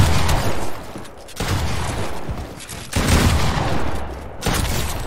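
Rapid gunfire from a Fortnite box fight, a dense continuous fusillade of loud shots in bursts with brief pauses, close and dominant.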